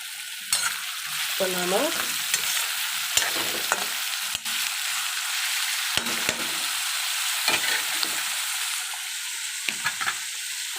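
A ladle stirs pepper and coriander-leaf country chicken gravy in a pan: a steady bubbling sizzle broken by repeated scraping clicks of the ladle, close up with no talk.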